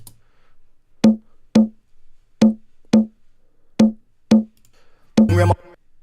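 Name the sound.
kick drum attack layered with conga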